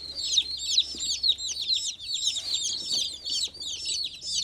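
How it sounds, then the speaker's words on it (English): Baby barred rock and buff Orpington chicks peep in a rapid, continuous chorus of high, overlapping chirps close by, with soft background rumble and no talking. "So Mom got 6 barred rocks and 6 buff Orpingtons."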